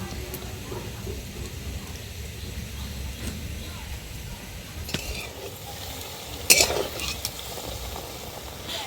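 Semolina sweets stuffed with filling fry two at a time over medium heat, giving a soft, even background sizzle. A brief clatter of a utensil or pan stands out near the end.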